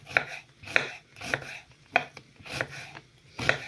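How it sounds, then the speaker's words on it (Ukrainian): A knife chops an onion into half-rings on a cutting board with six crisp, evenly spaced strikes about half a second apart, close and clear. "Тепер беремо цибулину, нарізаємо на напівкольцями."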